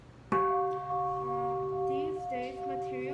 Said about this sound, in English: I'm gonna hit the gong